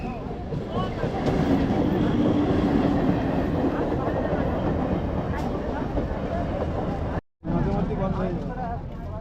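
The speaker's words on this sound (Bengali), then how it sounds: "ট্রেনও আসছে" A train rumbles past nearby at a level crossing with a rattling, clattering roar, while voices talk over the noise.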